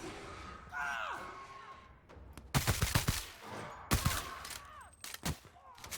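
Enemy gunfire in The Outer Worlds, loud sharp shots in bursts and single cracks through the middle and end, mixed with game sounds and a brief voice.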